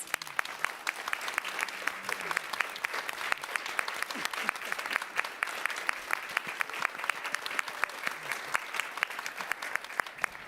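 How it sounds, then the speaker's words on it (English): An audience at a lecture and conversation event at the Schomburg Center applauds steadily, with dense continuous clapping throughout and no talk. "give yourselves a round of applause"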